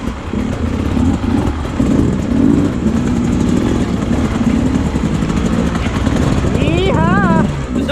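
Beta 300 Race Edition motorcycle ridden on a trail, its engine droning and revving steadily near the mic throughout, with a voice calling out briefly near the end.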